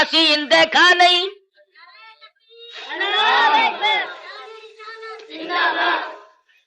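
Crowd at a religious sermon gathering shouting in unison, loud bursts of massed voices rising and falling in several waves with brief gaps between.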